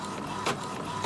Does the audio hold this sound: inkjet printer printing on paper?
yes